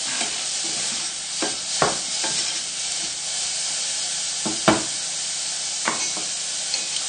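Mushrooms sizzle in a pan, a steady hiss broken by occasional scrapes and knocks as they are stirred, close and with no talking.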